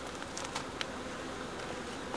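Honey bees at a hive during a brood check, in a colony that had cut back brood for lack of pollen. A steady, close, droning buzz of many bees continues throughout with no talking.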